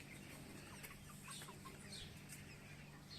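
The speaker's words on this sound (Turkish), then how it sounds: "Çok tavuk var değil mi Ege?" Several chickens cluck and murmur softly at night in a quiet garden, with a faint constant hum underneath.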